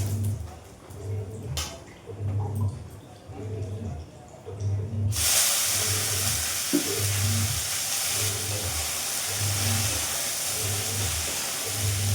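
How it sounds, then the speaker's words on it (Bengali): Leafy greens with plenty of garlic frying in hot oil, a steady close sizzling hiss that jumps louder partway through as the greens hit the pan, with a voice talking over it. "রসুন ফোড়ন দিয়ে শাকটাকে ভাজবো"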